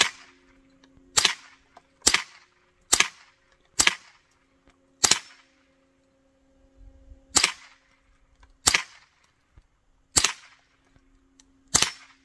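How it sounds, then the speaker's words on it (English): Nine sharp M&P 380 pistol shots fired at a long-range outdoor target, spaced about a second apart in two bursts with a pause between, each a loud crack with a short decaying tail over a low steady hum. "This pistol is so fun to shoot."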